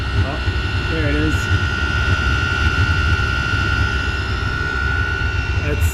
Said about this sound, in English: It's the sound of the chamber pressurizing